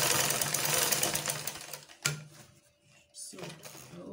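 A sewing machine runs fast along a shift dress seam, a steady rapid whir that cuts off, then a brief clack and a second short burst of stitching.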